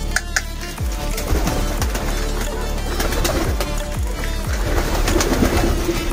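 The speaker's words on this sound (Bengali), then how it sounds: "এগুলো হচ্ছে ইন্ডিয়ান লোটন" Indian Lotan pigeons coo loudly and steadily while gathering at feeding time indoors at night, with bursts of wing flapping and shuffling among them and no speech.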